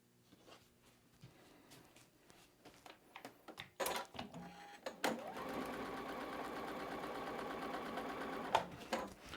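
A home sewing machine chain-pieces quilt squares in a quiet room: first scattered handling clicks and taps, then a sharp snap, then a steady close mechanical hum of stitching that runs to the end and stops.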